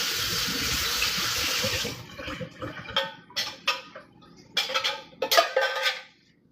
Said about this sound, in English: Rinse the lid.